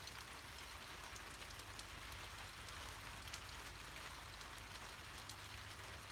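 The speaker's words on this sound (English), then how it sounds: "I do quite like the noise of rain." Steady rain falls around an abandoned barn, a constant soft patter with scattered drips, faint and even throughout, with no voices.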